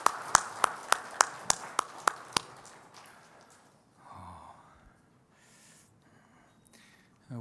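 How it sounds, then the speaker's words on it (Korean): Church congregation applause in a sermon setting, eight sharp evenly spaced claps over about two and a half seconds, then a quiet stretch with soft rustling and faint murmurs. "영광을 받으신 하나님께 감사의 박수 올려드릴까요?"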